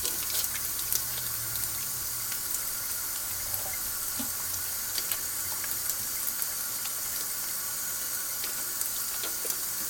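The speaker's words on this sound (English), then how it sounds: "let's add a little water" Water runs steadily into a batch of liquid soap, a continuous hissing, splashing pour heard close with a constant level throughout and no voices.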